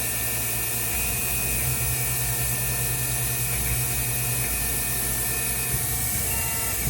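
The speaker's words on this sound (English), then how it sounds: "Sorry for the noise, but we're using stepper motors on these machines" CNC machine stepper motors hum and whine steadily, their tones shifting pitch as the machine moves, over a constant broad mechanical noise.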